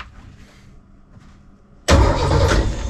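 An old marine engine in a wooden boat cranks on its starter motor after quiet, a sudden loud sustained grinding whir starting near the end and running on, close by.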